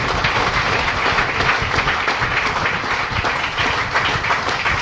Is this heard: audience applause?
yes